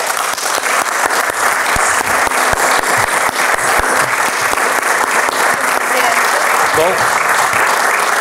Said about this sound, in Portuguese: peço-vos uma salva de palmas